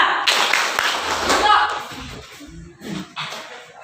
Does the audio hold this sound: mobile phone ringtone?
no